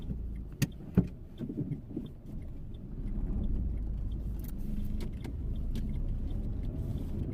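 A red car rolls along a road with a steady, soft low engine and tyre hum heard from inside, broken early by a couple of sharp clicks and light rattles.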